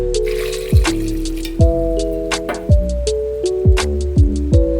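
Water is poured into a pressure cooker holding plantain and turmeric, with a run of plinking drips and splashes rising and falling in pitch, close and fairly loud.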